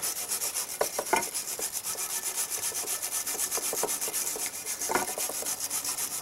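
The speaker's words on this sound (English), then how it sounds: "This is stainless brush." Stainless wire brush polishing an aluminum 6082 military antenna pole: loud, close, continuous scratchy brushing in fast rhythmic strokes.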